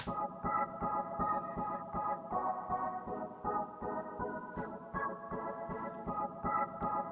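Synthesizer chords pulse in a steady rhythmic pattern, with sustained harmonic tones and extra notes layered on top, played alone without voices.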